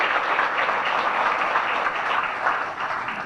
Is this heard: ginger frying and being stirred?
no